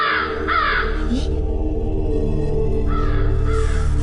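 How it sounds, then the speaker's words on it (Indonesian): A kedasi bird calling behind a sustained, loud mechanical drone, its harsh cawing notes rising above the hum a few times across the stretch. "Ibu dengar suara burung kedasi itu enggak, Bu?"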